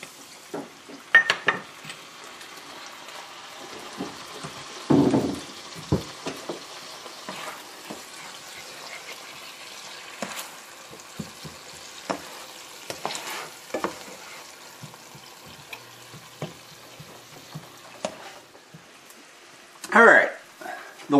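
Cooking wine reducing in a pan for low-carb pasta carbonara: a soft, continuous sizzle broken by stirring scrapes and clinks of a utensil against the pan, with louder bumps near the start and end and a voice talking at times.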